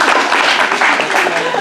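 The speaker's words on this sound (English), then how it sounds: "Give her a round of applause." A crowd gives a dense, steady round of applause at an animal show at Rainforest Adventures Zoo in Sevierville, Tennessee; the clapping is loud and close, with voices mixed in.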